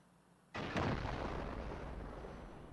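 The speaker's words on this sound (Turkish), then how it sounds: "Patlatsana kanka, patlama sesi versene acil." A loud explosion blasts in the video game Rust, cutting in sharply out of quiet and leaving a long, dense roaring rumble that fades only slightly.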